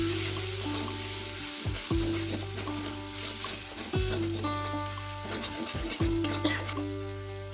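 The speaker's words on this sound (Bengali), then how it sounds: "এটাকে আমরা মিনিট খানিক ধরে লো ফ্লেমে কষাতে থাকবো।" Chillies and turmeric powder frying on low flame in a wok, a steady close sizzle broken by repeated stirring strokes, with a low background drone and no talking.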